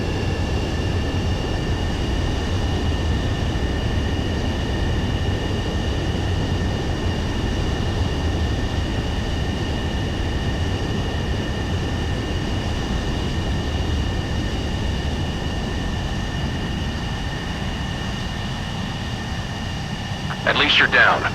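A jet touches down on a runway in the video game Ace Combat 7, a steady engine rumble and whine with sustained tones holding for about twenty seconds before a brief louder burst at the end.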